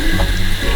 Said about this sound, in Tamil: தண்ணியை ஊத்துறான்டா.